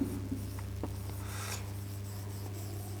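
Pen or marker writing on a board or paper during a time-and-work reasoning lesson: a few short scratchy strokes over a low steady hum, fairly quiet, with no talking.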